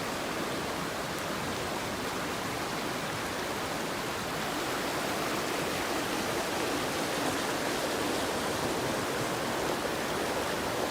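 A rain-swollen creek rushes past as a steady, broadband roar of flowing water with white water, fairly soft and continuous with no voices.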